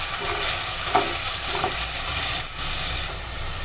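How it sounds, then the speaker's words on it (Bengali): Cumin paste and spices frying in a pan, a continuous close sizzle with scraping stir strokes and soft clatter, no talking over it. "এবার দিয়ে দিচ্ছি জিরা বাটা। মশলাগুলো নেড়ে ভালো করে মিশিয়ে নেব।"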